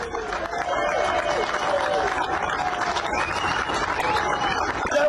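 Applause and cheering from a crowd at a union rally, loud and continuous, mixed with raised voices and some chatter.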